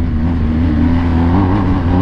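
A BMW R 1250 GS HP's boxer engine revs hard off-road, a loud close tonal drone that holds and swells slightly across the moment, alone without talk.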